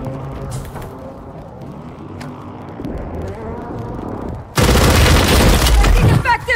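Gunfire in Call of Duty Modern Warfare 3 ranked multiplayer, a sudden loud sustained burst of automatic fire arriving after quieter game ambience and distant pops, with in-game voices over it.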